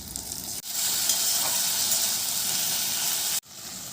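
Onion, tomato and ginger-garlic paste frying for a mutton curry, a loud steady sizzle and hiss that starts abruptly, holds evenly for about three seconds, then cuts off.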